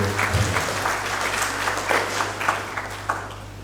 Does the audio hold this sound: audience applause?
yes